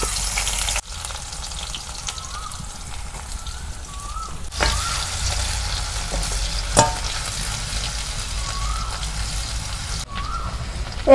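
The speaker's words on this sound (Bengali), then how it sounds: "তেল গরম হয়েছে, এখন আমি পেঁয়াজ কুচি দিয়ে দেবো।" Chopped onions frying in hot mustard oil in a kadai give off a steady sizzle close by, broken by a few sharp scrapes and knocks from stirring, with no one speaking.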